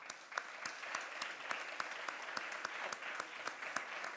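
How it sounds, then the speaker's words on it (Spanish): Steady applause from an audience at a poetry award ceremony, with distinct individual claps rattling throughout, fairly soft and distant. "pues un aplauso para Luis Alberto de Cuenca"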